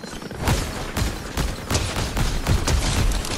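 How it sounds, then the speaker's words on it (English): Rapid gunfire from a DMR rifle in the Fortnite video game cracks out in a steady series of sharp, loud shots, roughly three per second, with no voices over it. "I want to shoot them."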